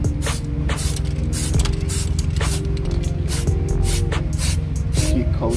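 Aerosol spray can applying primer to the brake calipers of a BMW F32, a steady continuous hiss in light passes held close to the microphone, with no talking.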